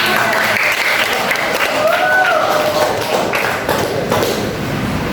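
Applause from a class of trainee teachers during a geography lesson for teacher professional training in a classroom, a dense, steady wash of clapping lasting throughout at even loudness, with some voices mixed in.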